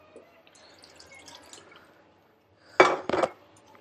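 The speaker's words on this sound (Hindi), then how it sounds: "और इसमें डालेंगे थोड़ा सा पानी" Water is poured onto ghee in a cooking pot while layering keema biryani, making two brief, close splashing bursts after a quiet stretch of faint kitchen clatter.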